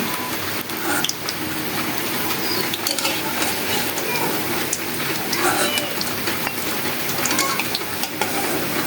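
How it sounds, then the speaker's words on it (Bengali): Fish kababs frying in a pan of oil give a continuous dense crackling sizzle, loud and close, with small pops and faint handling noises throughout. "এই যে বাকিগুলো দিয়ে দিচ্ছি এভাবেই আমি সবগুলো কাবাব ভেজে নিব"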